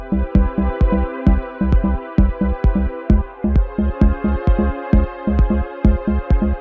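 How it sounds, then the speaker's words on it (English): Sustained synth pad chords with a spacious, spheric tone sit heavily over a music track, pulsing to a steady, even beat throughout at a loud, full level. "just some synth pad is smashed on top of the music"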